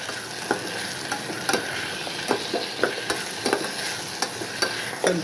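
Garlic, tomatoes and onions fry in a pan for an Andhra-style tomato chutney, a steady sizzle broken by a regular series of sharp scrapes and taps from stirring, close and loud with no talk.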